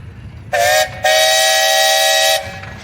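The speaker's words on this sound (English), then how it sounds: "You guys got a whistle there for us to show that thing on?" A loud, sustained steam traction engine whistle at a steam tractor parade, with a bright chordal tone, gives a short toot, pauses briefly, then blows one long blast before cutting off.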